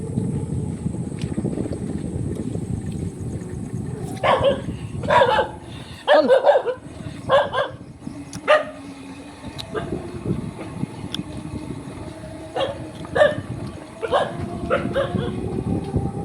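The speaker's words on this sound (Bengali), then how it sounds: "শিয়ালকে কুকুর তাড়াতেছে" Dogs chasing a jackal bark in sharp bursts, mostly in a cluster midway and a few more later, heard at a distance over constant wind and engine rumble.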